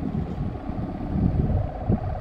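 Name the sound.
kite hummer (sendaren) humming in the wind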